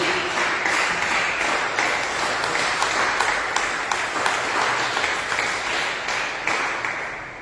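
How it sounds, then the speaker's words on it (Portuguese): A church congregation at an evening Portuguese-language service claps joyfully for Jesus, many hands producing a steady, bright wash of clapping with faint regular accents, sustained and fairly even in loudness. "Quem pode dar uma salva de palmas bem alegre para Jesus?"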